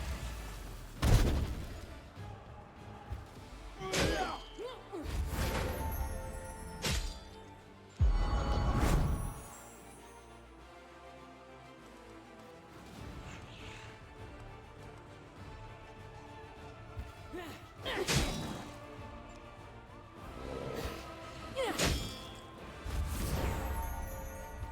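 Magic missile spells cast in Pathfinder: Wrath of the Righteous, heard as several sharp whooshing bursts and impacts that come in clusters over a layered battle soundscape, with quieter stretches between them.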